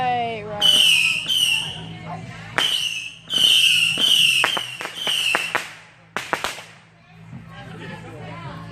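Daytime firecrackers and fireworks on the Fourth of July pop in loud, close bursts, some with whistling shrieks, firing in irregular clusters with short gaps between them.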